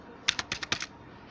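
Quick, light clatter of about seven keystrokes on a computer keyboard while code is typed, close and fairly quiet, in a short burst with no talk.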